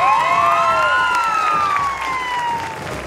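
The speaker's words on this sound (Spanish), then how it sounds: "Fuerte el aplauso para los dos chicos de Gualeguaychú." Studio audience at the Argentine game show El Precio Justo applauds and cheers for two contestants. The clapping and crowd noise hold steady under loud sweeping electronic tones and music, then fade slightly toward the end.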